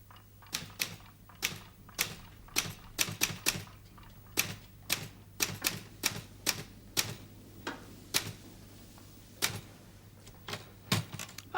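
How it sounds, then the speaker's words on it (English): A manual typewriter clacks out an uneven run of sharp keystrokes, some in quick bursts and some spaced apart, close and crisp against a low steady hum. "This machine makes a noise too. Do you know what it's called? It's called a typewriter."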